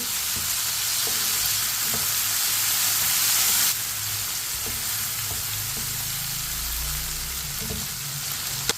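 Chopped tomatoes are stirred into okra (bhindi) frying in a pan. A steady close sizzle carries scraping stir strokes, with a brief louder hiss partway through, and no voices.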